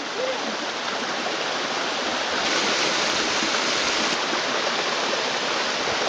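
A small miniature waterfall on Mt Washington splashes and rushes steadily, a dense, even wash of falling water close by with no other sounds.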